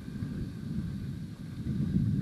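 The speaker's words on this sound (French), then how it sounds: "Il y a un peu de vent quand même" Steady outdoor wind buffets the microphone near choppy water, a continuous low rumbling roar that swells slightly toward the end, with no talking.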